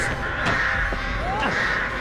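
Crows in the video game Dead by Daylight let out a couple of harsh caws, fairly close and short, over a quiet game background.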